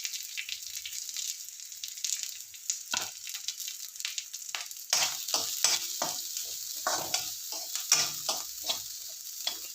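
Green chillies and curry leaves saute in a pan for coconut rice, a bright crackling sizzle with rhythmic scraping stir strokes that grow busier and louder halfway through, heard close and alone.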